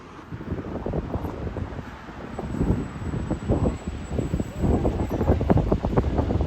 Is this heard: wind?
yes